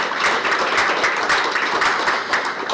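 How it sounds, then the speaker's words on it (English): An audience at a hockey event applauds for MVP Adam Gaudette, a steady, fairly loud wash of many hands clapping close by with no voices over it. "I got to have a round of applause for that"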